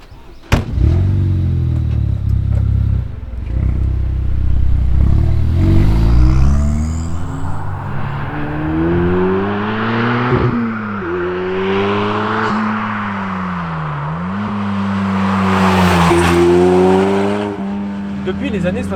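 Dallara Stradale sports car climbing the Passo Giau mountain pass in the Dolomites, its engine revving up through gears with rising and falling pitch sweeps, loud and close throughout the drive.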